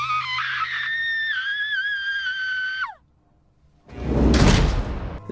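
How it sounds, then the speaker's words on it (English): A high, wavering tonal cry holds for about three seconds and cuts off, followed after a brief silence by a loud, harsh burst of noise. "She hears her own voice followed by a horrified scream"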